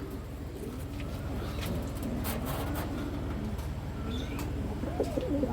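Pigeons coo steadily at a club racing-pigeon loft, the soft low calls repeating in the foreground over a constant background hum, with a few faint chirps higher up.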